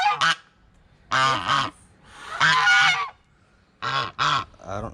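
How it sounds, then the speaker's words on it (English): Several geese, not Canada geese, honk nearby in loud, harsh bursts, a few quick honks at a time separated by short pauses, with no talking. "These aren't Canadian geese."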